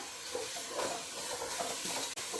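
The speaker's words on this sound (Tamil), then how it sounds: "கொஞ்ச நேரம் வெங்காயம் நல்லா வதக்கி விடுங்க" Onions and curry leaves sautéing in a pan for a vegetable kurma, a soft steady sizzle and hiss with faint stirring scrapes, quiet and close.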